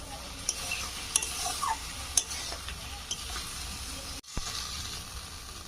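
A utensil stirs and scrapes food in a hot pan, sizzling steadily with intermittent clinks and scrapes, plus a brief drop-out near the end; no one speaks.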